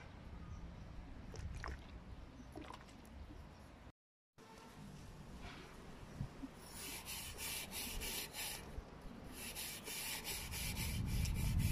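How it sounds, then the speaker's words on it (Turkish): Steel wool scrubbing a rusty, limescale-stained sink, a close, steady scraping and rubbing that grows louder and harsher toward the end, after a brief gap of silence. "Hafif telliyorum bu şekilde."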